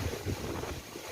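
Strong gusting wind buffets the microphone in a steady loud roar, with no voices over it.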